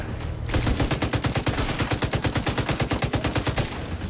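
Sustained automatic machine gun fire in The Division 2, a fast, even stream of loud shots lasting several seconds with no talking over it.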